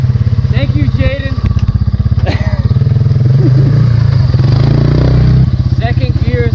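Off-road dirt bike engines idle and rumble loudly close by on a trail, a steady throbbing drone with rattling clatter, while people talk over the noise.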